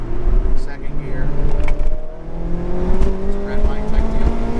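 A ND Mazda MX-5 Miata fitted with a Remark exhaust pulls hard in second gear toward redline with the windows down, its engine drone rising steadily under heavy wind rush.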